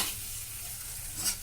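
Potatoes frying in oil in a pan for a sandwich filling, stirred over a soft, steady sizzle with one brief scrape near the end; quiet and close.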